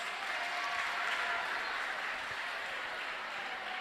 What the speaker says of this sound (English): Can we clap for Senkumba house?